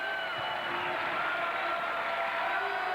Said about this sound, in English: The crowd likes that. Well, they love it more. They rise as one in Rec Hall because it is match point.